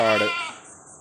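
A goat that has kidded twice, in Kadakkal, Kollam, lets out one short, close bleat that tails off quickly.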